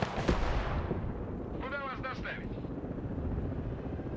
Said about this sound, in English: Alright, I'm gonna bomb that tree line.